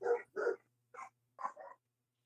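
A dog barks close and clear in a quick burst pattern: two bark pairs, then a double yip, before falling silent.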